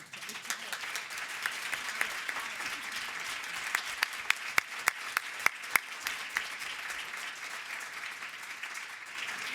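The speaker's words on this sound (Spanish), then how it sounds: "Un aplauso para ellos de entrada." An audience applauds at the opening of the APAG conference in Sitges, with dense, sustained clapping and a few sharper close claps standing out, continuing steadily for several seconds.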